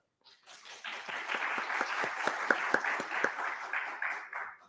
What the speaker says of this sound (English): Please, an applause for Dr. Balcour.